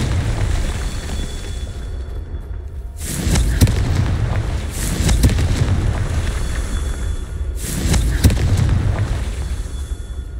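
Fiery explosive blasts from a Confringo spell effect, several broadband bursts at irregular intervals that swell and crackle over a constant loud rumbling background.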